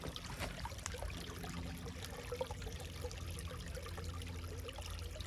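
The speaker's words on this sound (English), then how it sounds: "I love running water in the country, even if it's only a little babbling brook like this." Small babbling brook in the English countryside on a November afternoon, running water trickling and burbling steadily and continuously, close by, with no voices.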